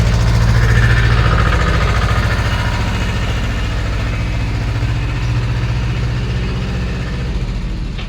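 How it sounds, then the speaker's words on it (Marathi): A tractor engine runs close by in a farm shed with a loud, steady low throb, idling evenly throughout with a deep rhythmic chug. "तर ट्रॅक्टर ते इथं लावून बघतोय शेड शेडमध्ये"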